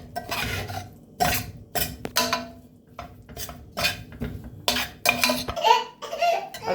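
A spoon scrapes and clanks against a pan while chicken masala and coriander powder are stirred in, giving a series of irregular metallic knocks and scrapes at close range, several strokes in quick succession.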